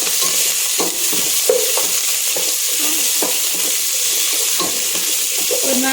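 Chopped onions frying in sunflower oil for a vegetable biryani, a steady close sizzle broken by repeated scraping strokes of a spoon stirring the pan, with no talk.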